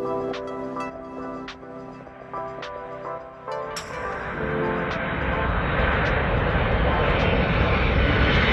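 Large airplane flying, a broad engine roar that builds and holds loud toward the end, preceded by a few sharp clicks and a quieter tonal passage.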